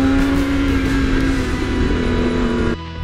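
BMW S1000R motorcycle engine held in first gear, a loud, steady high-pitched drone close to the mic that holds nearly constant for about three seconds and then drops off abruptly near the end.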